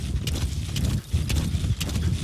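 Horse hooves beat a quick, steady clip-clop while galloping across the desert in Metal Gear Solid V: The Phantom Pain, the rhythmic thuds loud and close over a low rumble.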